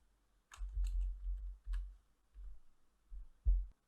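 Typing on a computer keyboard, a few quick clusters of soft key taps separated by short pauses, close and fairly faint, with no one talking.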